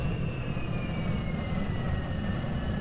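Steady, droning jet-engine roar from a VTOL plane in Kerbal Space Program, a continuous low rumble with a faint whine on top and no pauses.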